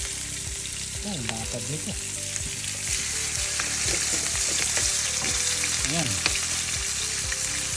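Pork chops sizzle and fry steadily in a pan, a constant crackling hiss throughout, with a person speaking briefly over the cooking.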